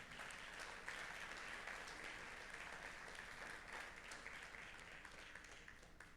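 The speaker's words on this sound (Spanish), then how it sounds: "¿Cuántos le dan un aplauso al Señor por esto?" A church congregation at a Sunday service claps together in praise, a continuous, even patter of many hands heard faint and somewhat distant throughout.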